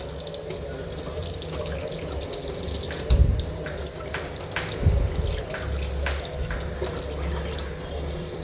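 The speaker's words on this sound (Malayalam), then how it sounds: "ഇതും കഴുകി കളഞ്ഞു." Plates and cups are rinsed under a running kitchen tap, a steady close splashing stream with occasional clinks and knocks of dishes against the sink.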